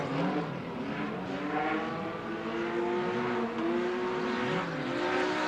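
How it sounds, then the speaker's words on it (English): A BMW stock car, number 313, roars past on an oval dirt circuit during a race, a loud sustained engine drone with shifting pitch as it passes close by. "you can hear the sound of that number 313, the BMW"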